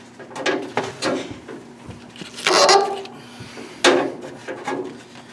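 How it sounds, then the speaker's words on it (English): Template flange for a 1934 Ford toe board being cut into slices, a series of sharp snips and crinkly rasps in irregular bursts, close and fairly loud, with one longer scraping cut in the middle. "Make a few more little slices in the top on the flange"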